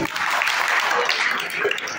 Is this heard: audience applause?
yes